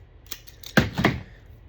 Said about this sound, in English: So now we're going to take our clips and cut that off.